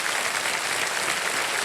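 Studio audience applause on a TV quiz show, Kaun Banega Crorepati season 17, a steady, dense clapping that fills the room throughout without voices.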